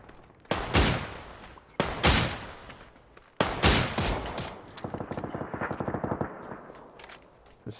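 Automatic rifle fire in PUBG cracks out in several loud bursts, each a sharp blast with a ringing tail, ending in a rapid rattling string of shots.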